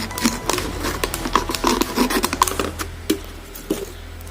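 A plastic mineral water bottle is cut with short scraping and crinkling strokes at close range, irregular rustles and snips with no talk.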